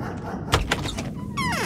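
A door opens in the video game Pathologic Classic HD, giving a couple of dull thunks followed by a rising mechanical slide or creak, heard alone over a steady low game ambience.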